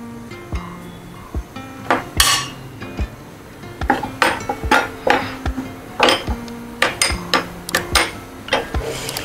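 Onion cheese paratha set on a hot tawa, with repeated sharp metallic clinks and scrapes of a utensil against the pan, irregular loud taps over a faint background hum.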